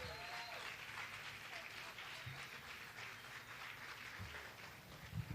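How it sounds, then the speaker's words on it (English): A crowd at a community commemoration event claps steadily throughout, a continuous but fairly soft wash of applause with some faint low rumbles and cheering underneath. "Can we give another round of applause for that amazing group one more time?"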